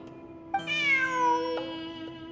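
A cat in the Genshin Impact video game gives a single clear, drawn-out meow with a falling pitch, heard alone over a quiet, steady game background hum.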